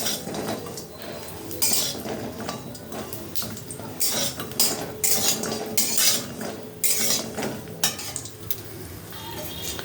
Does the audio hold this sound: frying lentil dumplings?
yes